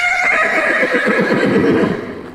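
Several horses neigh and whinny close by in one loud, sustained burst of repeated calls that fades at the end, with faint hoof clip-clop underneath.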